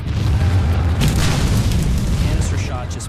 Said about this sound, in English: The casing explodes, spraying the iron balls into advancing troops at hundreds of yards per second.